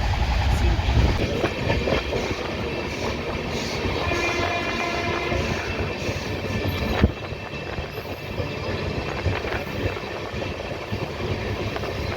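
Kumbh Express (12369) rolling toward Asansol, heard from inside a crowded general coach: a steady, loud rumble of wheels and carriage rattle fills the whole stretch, with a sharp jolt midway and faint voices underneath.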